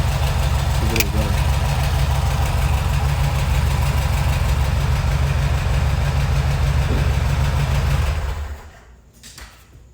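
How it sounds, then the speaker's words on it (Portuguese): A Volkswagen Beetle engine idles loudly nearby in a workshop, a steady, slightly knocking low rumble that runs evenly, then drops away abruptly near the end. "Vou funcionar o Fusca."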